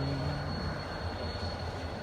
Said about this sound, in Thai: นั่นเป็นรถไฟ